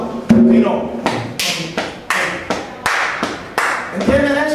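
Hands clap in a steady rhythm, a string of sharp, loud claps, during a lecture on music, dance and oral tradition of the Caribbean coast of Colombia; a voice briefly sounds over the claps at the start and end.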